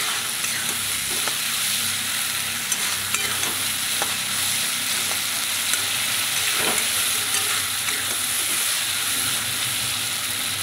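Spice paste with a little water frying for a lote fish curry, a steady close sizzle with occasional spoon scrapes and stirring strokes against the pan, even and continuous throughout, with no talk.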